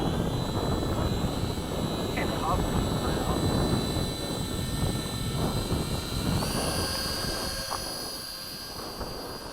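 A Hobby King Mini B-17 RC model airplane flies in gusty wind at an outdoor field, its electric motors giving a steady high-pitched whine over wind buffeting, with people talking now and then.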